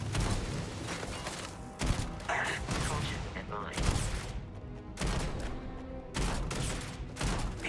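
Video game gunfire comes in bursts of loud rapid shots and booming blasts, separated by brief lulls, with what may be voices underneath.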